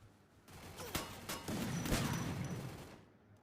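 Dragunov rifle fire in the Free Fire video game, with a sharp shot near one second and another strong blast near two seconds over a continuous gunfire backdrop, fairly faint overall.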